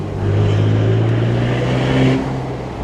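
A Ferrari engine revs loudly and close by, holding a steady, powerful roar for nearly three seconds with a slight rise in pitch.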